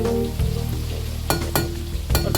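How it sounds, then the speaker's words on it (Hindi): Moong dal frying in hot oil for homemade Bombay mix, a close, steady sizzle with a few sharp spikes from stirring or spattering, with no talking. "ये देखें ये फ्राई हो रही है"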